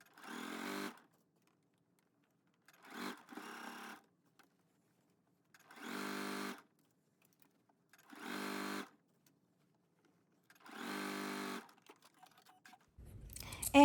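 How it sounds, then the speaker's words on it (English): A sewing machine stitching a seam at 5/8 inch allowance whirs in five short bursts separated by quiet pauses, ending with a brief handling clatter. "we are going to sew that down at a 5/8 of an inch seam allowance at our sewing machine"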